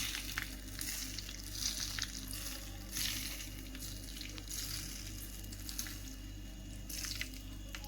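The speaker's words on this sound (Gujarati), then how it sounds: "હવે આપણે નાખી દેવું સૂકા મરચિયા" Dry red chillies crackle and sizzle in hot tempering oil, a steady, close frying hiss that runs unbroken with no voices over it.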